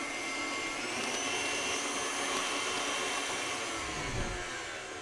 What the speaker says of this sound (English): Now I'm going to increase the speed back up to medium again, and I'm going to aerate the batter for about 1 minute.